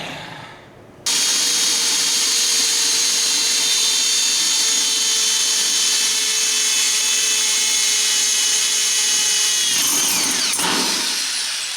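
A power drill starts abruptly and whines loudly at a steady pitch for several seconds, then sputters and grinds to a stop with a sharp crack as the drill bit breaks when nearly through.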